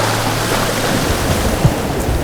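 Small sea waves wash steadily against the North Shore coast at sunrise, a loud, close, continuous broadband rush of water with no voices.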